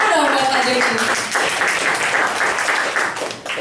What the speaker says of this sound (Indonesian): Iya, tepuk tangan dong buat Pak Joni.